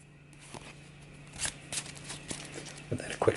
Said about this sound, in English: we'll shuffle them into our deck.